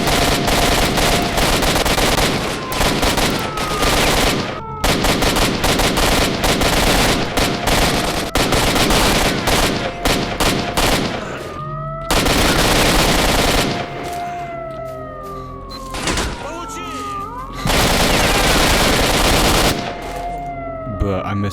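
Gunfire in the STALKER Shadow of Chernobyl video game, loud dense bursts of automatic fire with sharp rattling shots, broken by brief pauses, accompanied by whistling tonal sweeps.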